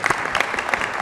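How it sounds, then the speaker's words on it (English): A city council meeting audience claps in a brief, dense burst of applause that fills the room evenly for about a second. "Let's give him another round of applause."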